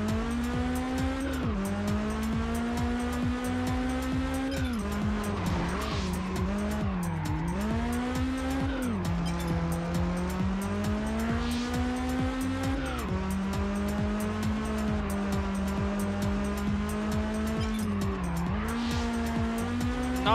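A car engine strains while reversing uphill in the Test Drive Unlimited racing game on PS2, a steady droning whine that dips and rises repeatedly across the clip, with no talk.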